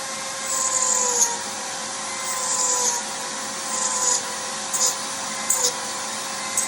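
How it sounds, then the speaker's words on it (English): A vacuum runs during foam carving of an owl, drawing up foam debris: a steady droning whine with a faint tonal hum, swelling in short rough bursts as the nozzle is held near the foam. "I'm going to hold it down here so the vacuum will suck some off."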